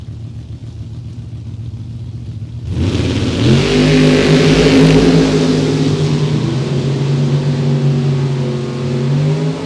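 Corvette and Camaro race cars at a World Super Pro Challenge drag event: a low idle burble suddenly explodes into a loud, sustained engine roar as the cars rev and launch, close and powerful, with no talking.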